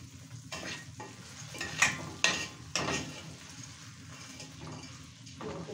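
Tarhana sizzling and roasting in a pan, with stirring scrapes and a few louder clatters over a steady hiss.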